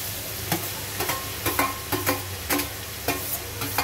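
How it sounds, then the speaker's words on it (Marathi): Carrots and beans are stirred into a hot frying pan for a homemade Chinese-style dish, giving a steady sizzle broken by repeated rhythmic scraping strokes of a spoon, with no talking. "चला तर गाजर आणि बीन्स पण आपण याच्यात मिक्स करूया."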